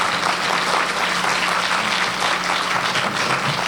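A church congregation applauds to thank their pastor after his sermon and talk on ministry, a steady dense wash of clapping from a large crowd filling the room without a break.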